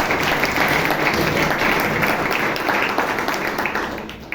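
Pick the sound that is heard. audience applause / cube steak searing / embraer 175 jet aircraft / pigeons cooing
audience applause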